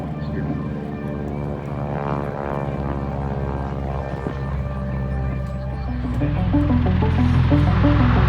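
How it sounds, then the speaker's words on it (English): A 1944 Stearman biplane flies slowly at an airshow at Oshkosh AirVenture 2022, its radial propeller engine giving a steady, loud, harmonic drone that rises toward the end, with an announcer talking over it. "Vicki showing off a little slow speed handling of the 1944 Stearman"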